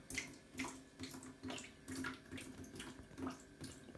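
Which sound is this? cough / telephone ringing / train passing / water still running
water still running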